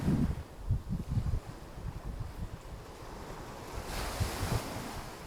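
Ocean waves wash onto a beach after rain, a continuous rolling surf with strong wind buffeting the microphone in low gusts, the wash swelling louder toward the end, no voices.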